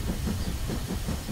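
Cartoon train rolls along the tracks with a steady rumbling clatter and hiss, a dense rhythmic low chugging that stays even and close throughout, no voices.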